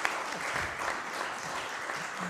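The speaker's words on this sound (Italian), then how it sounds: "concluderei proprio facendo un applauso al dottor Quercia così si finisce" Applause at the closing session of a workplace safety day event, steady hands clapping from a gathered audience at moderate, slightly distant volume, continuous throughout the short stretch.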